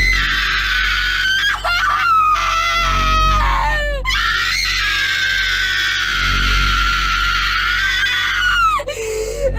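A woman screams loudly and continuously at close range, her shrieking voice wavering in pitch and breaking off briefly between long sustained cries.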